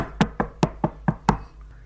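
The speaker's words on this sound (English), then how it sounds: "knock at the door." Six sharp knocks on a door in a steady, evenly spaced rhythm, close and fairly loud, with a brief quiet tail afterward and no talking.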